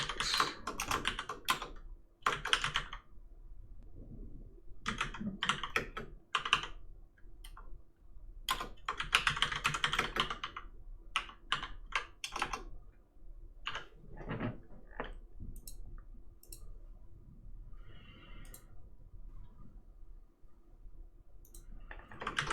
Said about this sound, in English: you're typing over here on the right